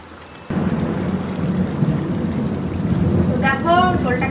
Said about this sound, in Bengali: এবার আমি মাছগুলো দিয়ে দেবো একটা একটা করে